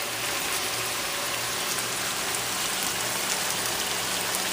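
Liver sautés in a hot pan with a steady, dense sizzle, close and even throughout, with no voices.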